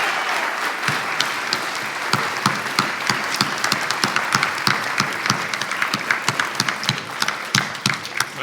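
Dense, steady applause fills a hall as the audience at a credit union's annual meeting claps throughout, with sharp individual claps standing out close by and no talking.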